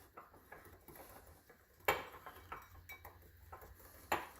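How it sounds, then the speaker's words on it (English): Dry homemade instant brown gravy mix with crushed pepper is whisked together in a bowl, producing faint quick clinks and tapping of the whisk with a couple of sharper knocks against the side. "Now we're just going to whisk this all together."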